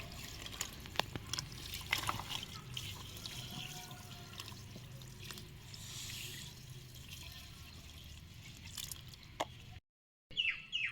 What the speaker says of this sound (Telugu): ఫుల్గా ఇది బ్రిక్ అంతా కూడా తడిచేలాగా మనం వాటర్ అయితే చేసుకోవాలి.